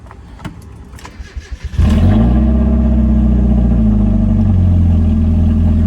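A Mazda Miata with a rough-running engine and a check engine light cranks over in stuttering bursts, then catches and settles into a loud, steady, somewhat uneven idle close by.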